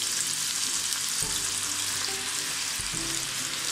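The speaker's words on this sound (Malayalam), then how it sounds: "ഇനി നമുക്ക് ഓരോരോ പീസായിട്ട് ഇതിലോട്ട് ഇട്ട് കൊടുക്കാം." Chicken pieces frying in hot oil in a pan, a dense, constant sizzle heard up close, with a few low clunks of pieces being dropped in or stirred.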